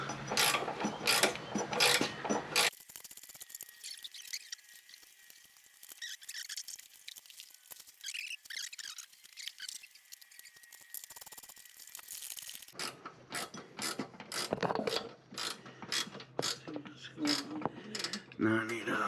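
A ratchet wrench clicks in quick bursts while tightening bolts on the deck shield of a Gravely ZTXL 42 zero-turn mower, with busy ratcheting at the start and end and a quieter stretch of faint handling noise between.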